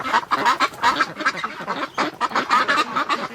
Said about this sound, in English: there's some ducks here that they're still got cold feet